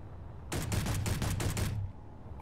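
A rapid burst of video game gunfire, about eight loud shots in quick succession, lasts just over a second and then drops back to a low background rumble.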